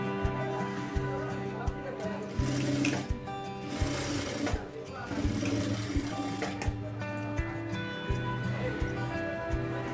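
A sewing machine runs steadily and close, stitching a cross belt with a rapid mechanical hum and regular needle ticks that carry on almost without a break.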